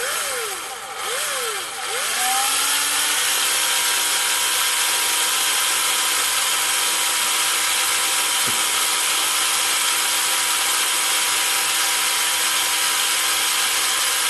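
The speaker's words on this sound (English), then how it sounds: "We'll start the drill up" A power drill spins up with a rising whine, then settles into a steady, loud motor hum that runs on unbroken.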